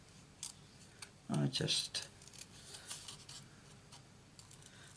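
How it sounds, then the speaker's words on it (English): Scissors snip through card stock in quick, light cuts, a brief cluster of louder clicks among scattered softer snips, close up while a person speaks briefly. "obviously you can take your time cutting these out."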